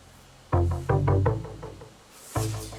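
Synth bass patch from the Diva software synthesizer, a few sustained low harmonic-rich notes in a short phrase with a gap before a final note, played alone without talk.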